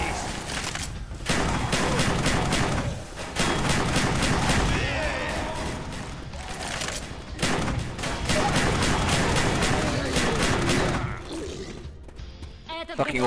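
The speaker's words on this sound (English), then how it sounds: "Fucking auto shotgun there" Auto shotgun fire in Left 4 Dead 2 cooperative play: loud, rapid blasts repeat in dense volleys with brief pauses between them, and players' voices sit underneath.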